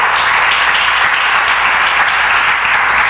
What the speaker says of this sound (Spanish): ¿Cuántos quieren darle un aplauso al Señor?